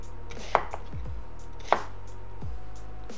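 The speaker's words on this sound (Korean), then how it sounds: "양파는 반으로 이렇게 썬 다음에요. 먹기 좋게 이렇게 썰면 됩니다." A knife cuts through half an onion on a cutting board, two sharp chops with a pause between them, close and clear, and a softer scrape at the end.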